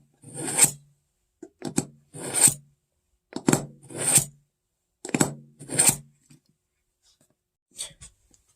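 A kitchen knife is drawn across a sharpening stone in about eight separate rasping strokes, each a short gritty scrape with brief pauses between, close and clear with no voices.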